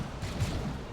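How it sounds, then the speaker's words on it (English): A plasma cannon firing in the video game Dawn of War 2, one brief heavy boom with a muffled, rumbling body under dense battle noise. "There you see the plasma cannon going off, and this thing does hurt."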